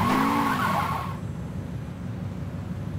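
An engine revs with a squealing tire skid for about a second, then fades into a low, rumbling drive in the video game Saints Row 2.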